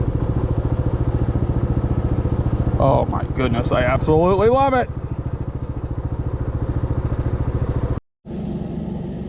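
A go-kart's small engine idles with a steady, close chugging pulse after a carburetor swap. A person speaks over it briefly, and near the end the sound drops out for a moment before the idle resumes.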